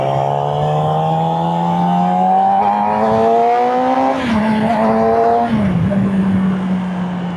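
A Yamaha R6 600cc sport motorcycle being ridden, its engine droning steadily near and loud with rising pitch as it accelerates, then briefly dipping and recovering as the rider shifts; wind and road noise underneath, no talking.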